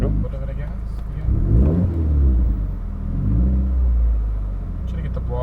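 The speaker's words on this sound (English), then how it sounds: "go ahead and stab the throttle real quick" A car fitted with a Tomei Expreme Ti titanium exhaust and a Grimmspeed J-pipe revs loudly in short blips, its deep rumble swelling and falling close by while people talk underneath.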